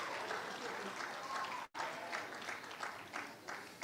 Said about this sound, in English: Give them babies a big round of applause.